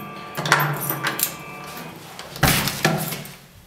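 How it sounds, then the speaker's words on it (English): An Arduino RFID door lock with a motor drive opens a wooden door: a pair of clunks and knocks, a short pause, then a louder rattle and thump as the door moves. "it will read it and open the door."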